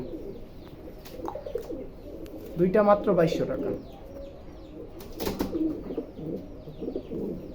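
Male fancy pigeons in a farm coo in low rolling bursts, close by and mixed with a brief wing flutter, while someone talks over them.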